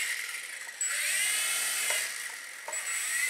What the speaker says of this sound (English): if I use the rudder, the tail rotor will work.